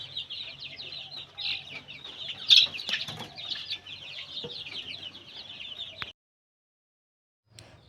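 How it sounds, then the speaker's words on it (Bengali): Chickens with small chicks in a rural village yard cluck and peep in a fairly close, continuous chatter, with one sharper squawk partway through, before the sound cuts to near silence. "এখানে অনেক মুরগি আছে, দেখো তোমরা, ছোট ছোট মুরগির বাচ্চা।"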